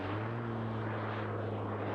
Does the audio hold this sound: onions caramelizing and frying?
no